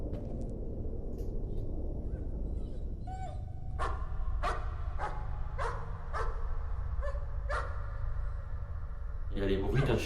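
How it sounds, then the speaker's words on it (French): A dog barks repeatedly in a French horror video game, sharp evenly spaced barks over a low droning ambient rumble, with a burst of faster yaps at the end. "un chien."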